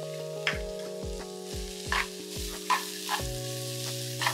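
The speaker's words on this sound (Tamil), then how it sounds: "தேங்காய் போட்டு நல்லா வதக்கிட்டு" Grated coconut sautéing with onions in a pan for a Tamil coconut dumpling filling: a steady soft sizzle with a spatula scraping and knocking about every half second, close and alone.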